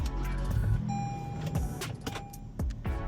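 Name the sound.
car engine running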